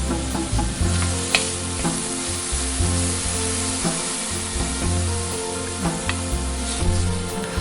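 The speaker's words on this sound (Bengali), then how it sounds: "এবার আলুগুলোকে তেলে দিয়ে ভালোভাবে ভেজে" Long-cut potatoes frying in hot oil in a frying pan make a loud, continuous sizzle close by, broken by irregular clacks and scrapes of a spatula turning them, with no voices.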